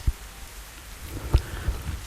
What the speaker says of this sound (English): Rain as well.